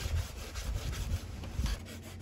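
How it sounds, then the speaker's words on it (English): Hand sanding at the front of a wooden frame on a model Chris Craft Corvette RC boat kit, a steady rough scraping of sandpaper on wood in repeated strokes, close and fairly loud. "this frame's just going to get a little sanding at the front here to get the angles around these frames"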